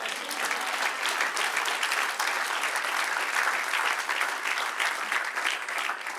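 Steady, dense applause from a church congregation at a sermon, sustained loud clapping with no gaps throughout.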